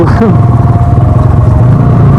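A motorcycle engine hums steadily and loudly as the bike rides along, with wind buffeting and a voice talking over the engine.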